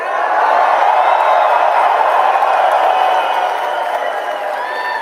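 A big outdoor political rally crowd of thousands, gathered in the rain in British Columbia, sends up a steady, loud wall of cheering and whooping that holds for the whole stretch and eases slightly at the end.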